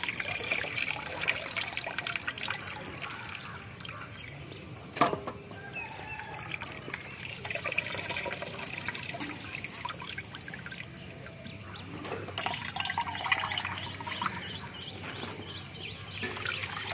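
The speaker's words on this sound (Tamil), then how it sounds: "எடுத்து அப்படியே வடிகட்டி வைக்க" Soaked poha draining in a strainer in a village kitchen, water trickling and dribbling steadily at close range, with a few faint bird calls in the background.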